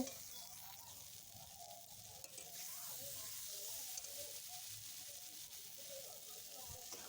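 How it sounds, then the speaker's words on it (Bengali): Diced potatoes sautéing with turmeric and chili powder for a fish curry give a steady, moderate sizzle with faint stirring scrapes, continuous and close throughout. "1 চামচ লঙ্কার গুঁড়ো দিয়ে ভালো করে লঙ্কা হলুদ আলুগুলো ভালো করে কষে নেব।"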